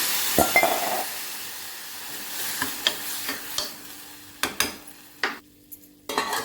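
Tamarind-tomato mixture is poured into a hot pan for a vegetable sambar-style dish, giving a brief sizzle followed by stirring scrapes and several sharp clinks of a utensil against the pan, close and without talk.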